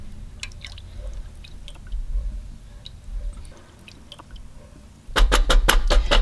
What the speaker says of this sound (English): let's go ahead and stir this up